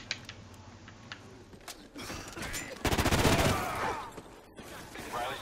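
Gunfire in the video game Call of Duty: Ghosts: scattered shots and mechanical clicks build into a dense, loud burst of rapid automatic fire that fades into rumbling effects.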